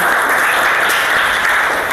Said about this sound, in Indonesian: Tepuk tangan untuk teman-temannya yang sudah mengajukan pertanyaan